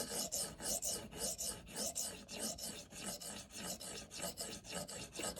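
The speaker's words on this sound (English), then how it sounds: "I'm going to work on this first venev stone 80 grit, F80 I think it's called" Spyderco Paramilitary 2 in K390 steel drawn across a coarse 80-grit Venev stone on a KME guided sharpening system: steady rhythmic rasping strokes, close and even, repeating about every half second with no talk.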